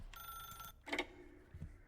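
A telephone rings in The Stanley Parable video game, a steady electronic bell tone with a short burst after it, faint and without talk.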